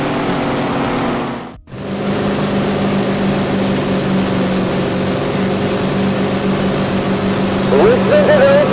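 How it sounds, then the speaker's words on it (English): Race car engines in Tony Stewart's All American Racing idle and drone steadily under a yellow flag before the start, a loud continuous mechanical hum with a brief dropout and a rising whine at the end. "Listen to those engines as we get ready to go"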